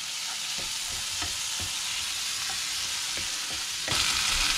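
Steady sizzling of onions and tomatoes frying in a pan, with faint stirring clicks throughout and a slightly louder sizzle near the end.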